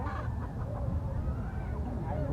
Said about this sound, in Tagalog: Daming manok ah.